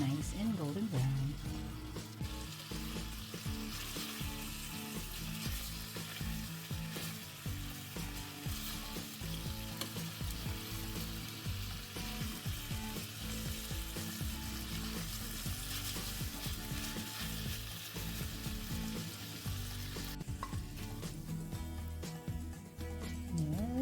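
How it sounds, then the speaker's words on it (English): Pork tocino cooks in a pan with a little water, simmering down until caramelized. It makes a steady, close sizzle and bubbling throughout, and the texture shifts slightly near the end. "We'll put a little bit of water, okay, and let it simmer until it's all caramelized and nice and golden brown."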